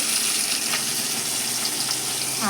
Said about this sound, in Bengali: যে দেখছো ভোলা মাছের পিসগুলো, আর এখানে যে ভাজা হচ্ছে